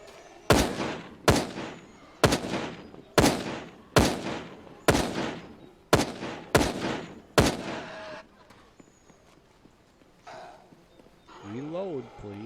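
A rifle in the video game Fear the Night fires eight sharp, loud shots at a steady rhythm of about one per second, each with a short decaying tail, followed by quieter game sounds and faint talk.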